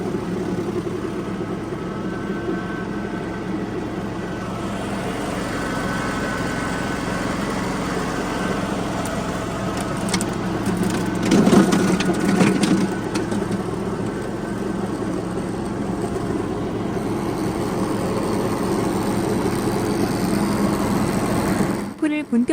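A Caniccom Masao F1 four-wheel-drive mower cuts tall grass in an apple orchard, its engine droning steadily and close throughout, with a brief rise in rattling near the middle.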